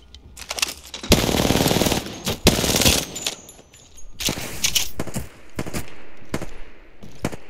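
Carbine fire in the shooter Apex Legends: loud, close automatic bursts of rapid shots broken by short pauses, followed by several more sustained strings and scattered single cracks.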